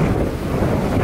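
Strong wind on an exposed mountain ledge buffets the microphone with a continuous low roar and rumble, loud and steady throughout.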